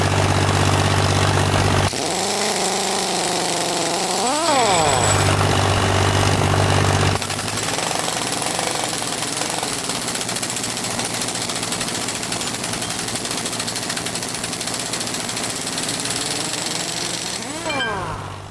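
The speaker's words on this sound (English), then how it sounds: "I'd start the air compressor on the cart, which would provide the compressed air to power the impact gun, which would take the nuts off the bolts" An air compressor drones steadily on a rail cart, with a rising and falling whine as an impact wrench works to remove nuts from rail joint bolts; loud, close and continuous for the whole stretch.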